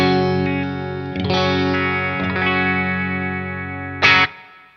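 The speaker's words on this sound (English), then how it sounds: "here's the sound of the guitar straight into the clean channel of the Friedman" Electric guitar played straight into the clean channel of a Friedman BE100 amp: sustained ringing chords with reverb tails, a few restrikes and a brighter strum near the end, close and full with no talking.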